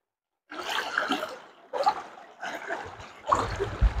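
Water pouring and splashing into a container that is nearly full, in bursts of gushing flow with short pauses, close and fairly loud.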